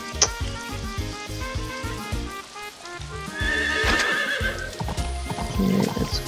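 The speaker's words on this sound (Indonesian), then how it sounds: "Gua naik kuda dulu deh." Horse in Story of Seasons: Pioneers of Olive Town neighs near the start while hooves clip-clop in a quick rhythm, joined by bright game chimes and effects, fairly close and moderately loud.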